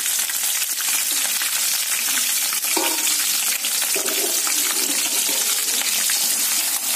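Green chillies hiss and sizzle in hot oil in a pan, a loud continuous frying crackle with a few stirring scrapes, close and alone.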